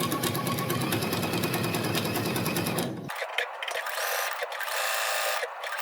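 A sewing machine stitches a cupcake quilt block in a steady, fast, loud run of needle strokes for about three seconds, then stops, leaving quieter handling noise.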